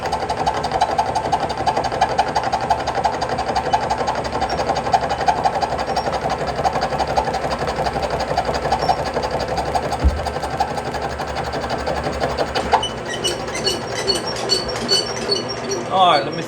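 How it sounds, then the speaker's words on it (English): A metal-cutting machine, likely a lathe, takes a first pass removing about 30 thousandths, running as a steady loud mechanical whir with a change in texture near the end and some speech mixed in. "All right, first pass. I'm taking about 30 thousandths off."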